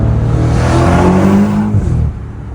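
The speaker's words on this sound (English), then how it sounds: "If you want your F90 M5 to sound like this" A BMW F90 M5 performance car engine revs hard and loud, a deep growling roar that holds steady, then drops off abruptly near the end.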